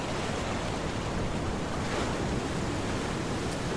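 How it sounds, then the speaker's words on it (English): Ocean waves sleep sound from the Nightstand Central app, a steady, dense wash of surf noise that stays loud and even throughout with no talking. "So as you can see, I've now set it for waves."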